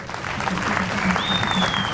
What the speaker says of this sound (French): On peut applaudir cet effort.